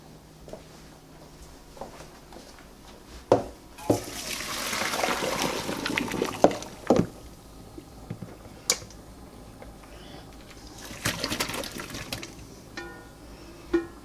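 Water from a pot of boiled potatoes pours off in two quiet gushing bursts, with small clinks and clatters from the pot between them.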